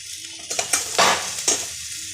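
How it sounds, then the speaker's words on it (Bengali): A spatula scrapes and stirs radish greens in a hot wok over high gas, a few quick clattering strokes over a soft sizzle. "ভালো করে নাড়তে হবে, ভালো করে।"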